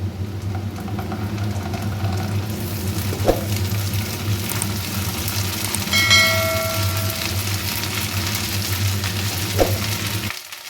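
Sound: onion and ginger paste frying in a pan

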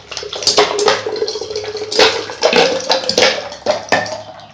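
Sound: stirring sugar mixture to dissolve it

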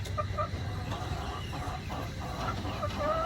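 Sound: hen clucking after laying egg

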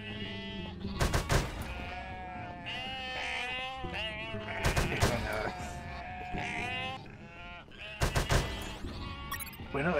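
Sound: sheep bleating, from video game Unmetal

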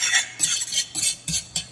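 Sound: stirring onions, carrots and celery in a pan

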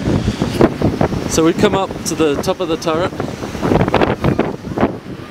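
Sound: strong gusting wind on mountain summit

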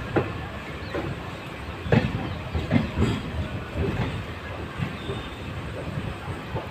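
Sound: train departing Dehradun station

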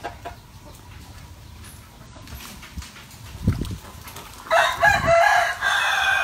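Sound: fighting rooster crowing

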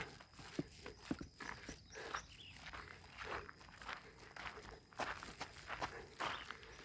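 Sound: footsteps walking

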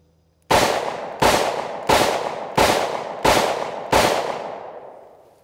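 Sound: Taurus 856 revolver rapid-firing Black Hills Honey Badger 38 Special rounds

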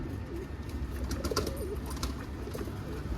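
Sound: birds cooing in a coop

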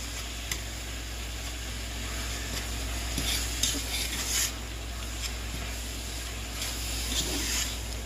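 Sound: stirring goulash in a large pot

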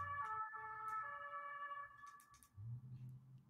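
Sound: ambulance siren passing by

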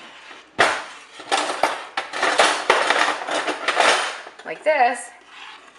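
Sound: crushing strawberries with a potato masher in a bowl

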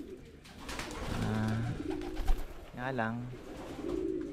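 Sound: pigeons cooing in a breeding loft

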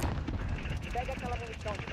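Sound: gunfire in a video game

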